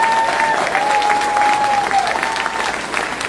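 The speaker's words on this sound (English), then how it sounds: "Let's give Carl another big round of applause." An audience at a Reform California political rally gives Carl a big round of applause, dense steady clapping throughout, with a thin sustained electronic tone, likely microphone feedback, running under it.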